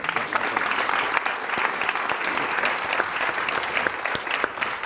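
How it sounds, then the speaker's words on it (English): An audience applauds a panel at the close of a food conference session, a thick continuous round of clapping heard fairly close and loud, lasting the whole stretch without talk. "Please applause for our panel."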